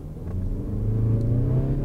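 Mazda CX-30, a 2020 model with a 2.5-liter four-cylinder Skyactiv-G engine, revs up with a steady rising drone, loud and close, building gradually with no talk over it.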